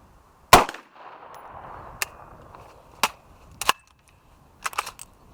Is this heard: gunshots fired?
yes